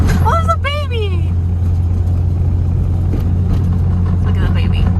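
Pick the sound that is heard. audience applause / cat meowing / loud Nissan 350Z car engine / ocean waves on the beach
loud Nissan 350Z car engine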